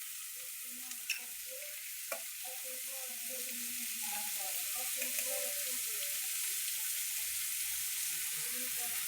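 Tomatoes hit hot oil in a pan for whole red lentil dal, giving a constant bright sizzle with a few sharp stirring taps near the start and a faint muffled voice in the background.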